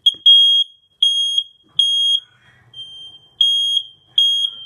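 A household smoke alarm sounding its test after the button is pressed: six loud, piercing electronic beeps in an uneven rhythm with short silent gaps, close by and alone.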